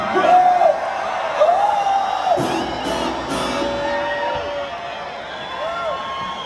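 Concert crowd at a live show at VetsAid, screaming, whooping and cheering loudly and continuously, with rising yells and a dense roar of many voices close around.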